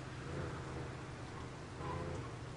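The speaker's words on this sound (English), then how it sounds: "A little bit of rain." Steady rainfall in the Saints Row 2 video game, a dense even hiss with a low rumble underneath, continuous and moderately loud for the whole stretch with no voices.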